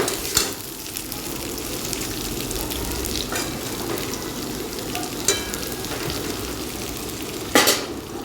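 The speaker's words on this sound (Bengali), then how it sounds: "রাঁধুনি বাটা দিয়ে হয়ে গেছে, এবারে ঘাটাঘাটি করে দেবো" Radhuni spice paste sizzling and frying in a wok while being stirred, a steady close crackle with scraping strokes and a few sharper clatters, no talking.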